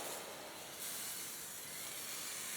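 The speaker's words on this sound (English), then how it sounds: "just kind of spray some stars back on there." A steady, airy hiss of white spray paint from a can runs throughout, getting a bit stronger partway through, with no talking.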